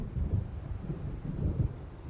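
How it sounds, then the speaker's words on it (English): Low, rolling thunder rumbles steadily through a stormy night scene in the video game Alan Wake Remastered, with the swells heavy but muted and no talk over them. "It seems there's a storm coming."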